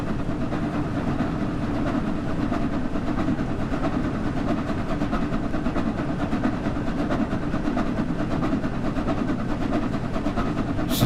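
The Flying Scotsman steam locomotive in Train Sim World 6, a steady continuous rolling rumble and chuffing drone heard from the footplate, constant in level throughout with no voices.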